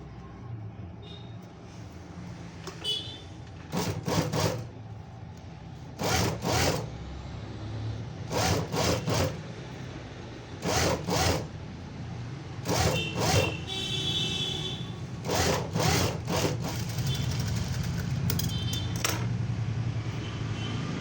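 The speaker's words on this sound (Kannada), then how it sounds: "ಈಗ ಇದನ್ನು ಫೋಲ್ಡ್ ಮಾಡಿ ಸ್ಟಿಚ್ ಹಾಕೊಳ್ಳೋಣ" A sewing machine runs in repeated short bursts as it stitches folded fabric for a princess-cut blouse, roughly eight rapid whirring runs with pauses between, close and moderately loud over a low background hum.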